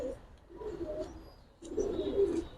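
Giribaz and coloured pigeons coo at a pigeon market, a few soft, low rolling coos early on and then a louder, sustained cooing phrase near the end, with faint chirps around them.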